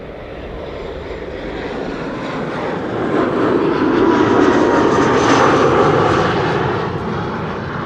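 An Icelandair Boeing 737 MAX 8 jet passes by, a loud steady broadband engine roar that swells toward the middle and slowly eases, with no voices.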